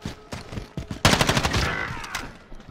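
Gunfire in an online search-and-destroy shooter game, with a burst of rapid shots near the one-second mark following a few scattered single shots, loud and close, then fading into trailing noise.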